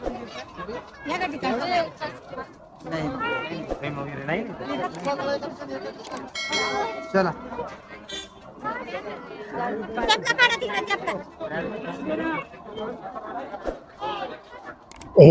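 Crowd chatter fills the grounds at the Sambhaji Maharaj samadhi near Bhima Koregaon, a steady dense babble of many voices with occasional louder calls and a horn now and then, continuous throughout.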